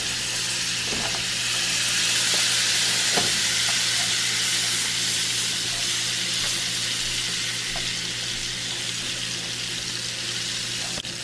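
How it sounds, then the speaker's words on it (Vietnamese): Butter sizzling in a hot frying pan with cooking oil while spicy butter sea snails are cooked, a steady close frying hiss with small pops and crackles throughout and no talking. "Nhẹ nhàng đặt những miếng bơ thơm ngon béo ngậy vào chảo."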